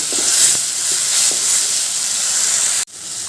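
Ground turmeric and cumin fry with tomato paste in a pan, making a loud, steady close-up sizzle with a few soft stirring scrapes before the sound cuts off abruptly near the end.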